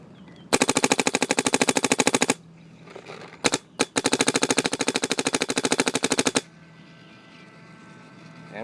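A 2008 MacDev Droid V3 paintball gun fires long rapid strings of shots, a burst of about two seconds, a few single pops, then a longer sustained volley, sharp and close, with quiet gaps between.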